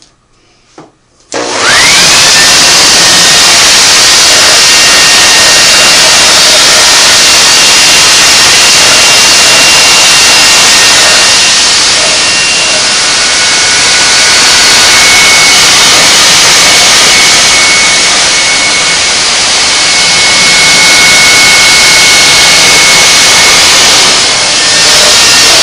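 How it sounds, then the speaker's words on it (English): A Homelite garden leaf blower drying the body of a Singer Model 503A sewing machine starts after a brief pull and then roars loud and close in a continuous rushing blast that runs to the end. "I found the quickest way is just a garden leaf blower"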